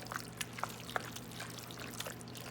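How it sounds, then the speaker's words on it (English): Beef broth is poured into a soup pot with ground beef, making a light liquid trickle and splash with a few soft clinks over a low steady background hum. "Then I'll add my beef broth."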